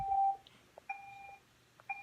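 Roomba 545 robot vacuum gives a short series of thin electronic beeps when its clean button is pressed, a few spaced tones alone in a quiet room.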